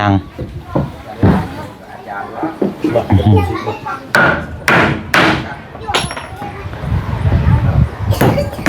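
Sharp hammer blows on wood or metal, struck in an irregular series of loud, close thuds during building work on a house, mixed with nearby talk and children's voices.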